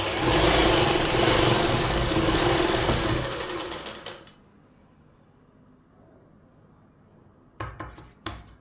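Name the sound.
sewing machine stitching lining of palazzo pants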